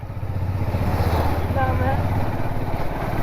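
Motor vehicle engine running steadily with a low, throbbing hum, close and loud, while voices talk over it.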